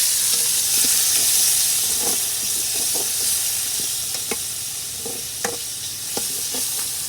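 Chicken frying in a kadai for a village-style aloo chicken curry, with a constant loud sizzle and hiss close by and repeated scraping and clanking stirring strokes, no talking.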